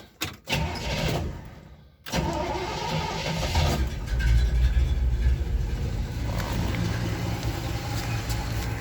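A 1962 Chevy Impala engine, started after sitting for a while, catches after a short cranking, then settles into a steady idle that fills the rest of the recording, close and fairly loud.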